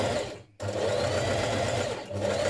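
A sewing machine runs close and steady, stitching down the length of a fabric tab for a spring sheath dress, with a brief pause before the motor hums on again.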